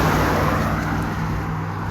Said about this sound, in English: Sorry about the cars.